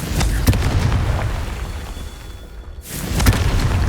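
Confringo spell explosions in the Hogwarts Legacy video game, loud booming bursts at the start and near the end with rumbling noise between, no talking.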